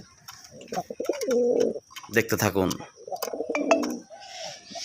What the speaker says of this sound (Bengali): দেখেন নটটা কীভাবে মাদিটাকে ই করে ডাকতেছে